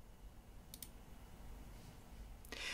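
Two quick, faint computer mouse clicks close together, heard near the start over a quiet room background, followed by a soft rustle toward the end with no speech.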